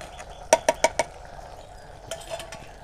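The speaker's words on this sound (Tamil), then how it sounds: "சேர்த்துட்டு ஒரு தடவை கிண்டி விட்ருவோம்" A spoon stirring ground masala into pumpkin curry in a pot, with four quick metallic clinks against the pot rim and then softer scraping, close by over a faint background hum.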